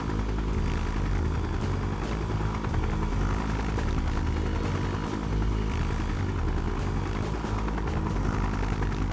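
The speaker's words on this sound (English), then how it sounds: "And they give me the slowest helicopter in the game." A helicopter flying in the video game Just Cause 3 gives a loud, steady rotor thump and engine whine throughout, close and continuous with no talk.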